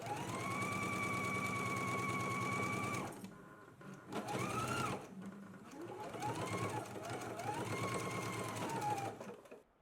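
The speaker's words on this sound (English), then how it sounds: "we're going to be stitching at a 1/4 of an inch seam allowance. Let's do that now." A sewing machine stitches a quarter-inch seam allowance on a McCall's M8601 garment, a steady loud mechanical whir that stops, then restarts in shorter runs with brief pauses.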